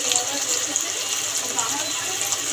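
A little water is poured into a pan of spice paste made from white mustard, poppy seed, green chilli and turmeric, giving a steady trickling splash with talk alongside.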